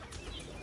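Pigeons flap their wings on a rooftop, a very short, faint flutter of wingbeats.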